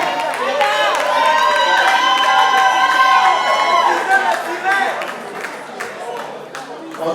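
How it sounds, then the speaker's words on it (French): At an awards ceremony, a crowd applauds and cheers a couple named couple of the year: loud, continuous clapping mixed with whoops and raised voices that eases off slightly toward the end. "Encore des applaudissements pour ce couple, s'il vous plaît, on les applaudit bien fort"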